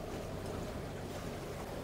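A sailboat's engine runs at about 1200 revs on an open-sea passage from Trinidad to Tobago, a faint, steady low drone mixed with wind and water noise.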